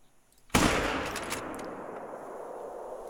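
A single sharp rifle shot in a hunting video game cracks out after a quiet start, then leaves a long fading echo that rolls on for several seconds.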